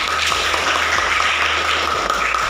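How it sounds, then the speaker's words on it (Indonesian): A classroom group applauds a student with a dense, steady patter of clapping that runs evenly throughout without pause or voices. "tepuk tangan untuk Maria"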